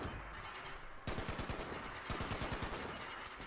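Automatic gunfire in Fallout 76, rapid bursts of loud shots rattling steadily for about two and a half seconds after a brief lead-in of game ambience, with a short pause midway.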